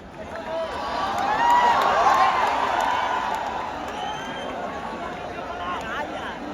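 Large outdoor crowd at the Pushpa 2 trailer launch in Patna's Gandhi Maidan clapping and cheering, a broad roar of applause and whoops that swells and then slowly fades, heard from within the mass of people.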